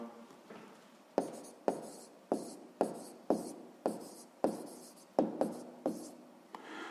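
Pen strokes on paper while a sixth-grade maths proportion is written out by hand, about ten crisp scratching bursts in a steady rhythm, close and clear, with no talking.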